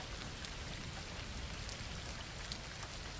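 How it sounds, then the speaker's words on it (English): Heavy rain lashes a cabin roof in a steady, dense hiss of drumming drops. It is loud and unbroken throughout, with no voices. "The rain lashed against the roof of the cabin with relentless force"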